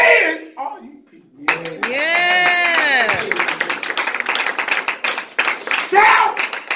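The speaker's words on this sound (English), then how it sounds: "Clap your hands." A church congregation claps their hands in a lively burst under a loud, shouting preacher, with rapid, dense clapping mixed with cheers and vocal exclamations throughout.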